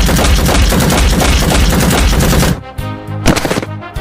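Rapid machine-gun fire rattles loud and continuous from an animated war scene, then breaks into a few separate heavy bursts with short gaps.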